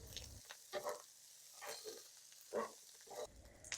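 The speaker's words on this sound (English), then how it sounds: "sugar, white pepper, salt, and stir fry for a minute." Yangzhou fried rice being stir-fried in a wok, with quiet scraping and tossing bursts and a soft sizzle rising at intervals over a low background.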